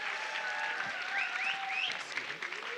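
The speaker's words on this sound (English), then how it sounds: "Give them a round of applause." Applause at a nonprofit summer benefit auction, soft and fairly distant clapping from a crowd with faint whistles and chatter mixed in, continuing evenly throughout.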